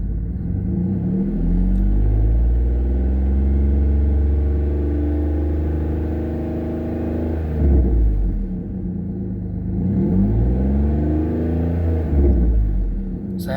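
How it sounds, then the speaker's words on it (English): A 2008 Pontiac G6 engine revved while parked, a deep steady idle rising and falling through two long throttle swells, loud and close with no voices. "let's give her some gas"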